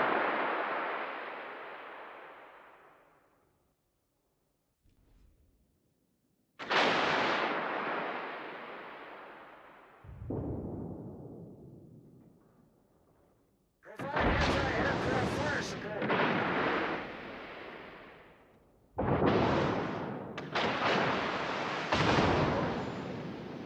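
Heavy naval guns of the Tirpitz battleship fire in a World of Warships battle, several loud booming salvos with long rumbling decay, some volleys coming in quick pairs, spaced apart across the sequence with no talk over them.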